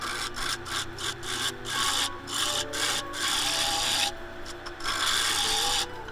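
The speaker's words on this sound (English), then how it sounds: "Using the round nose scraper there, or the bowl scraper, you get the French bowl scraper. Just going into a shear, getting those beautiful little wispy shavings off there." A round nose bowl scraper shears across a spinning redgum and epoxy bowl on a wood lathe, giving a loud, close, rasping scrape in repeated passes broken by short gaps, with no voices.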